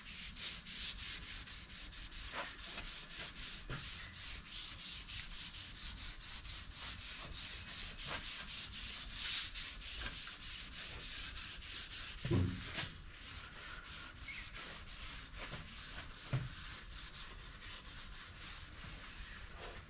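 A worn, holed Scotch-Brite pad rubs steadily over a metal part of a Herron K24 lathe, a continuous close scouring hiss with rhythmic strokes and a couple of brief knocks.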